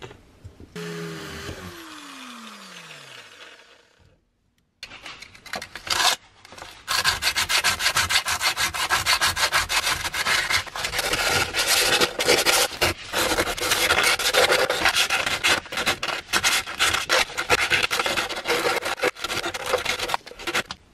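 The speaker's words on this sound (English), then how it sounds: "sanded everything in here, then everything in the trunk, and we also sanded down the cups, both of the plates" Power sanding on metal parts inside a BMW E46 trunk while preparing to fit a rear reinforcement bar, a dense continuous rasping grind running steadily and close after a short drill whine and pause.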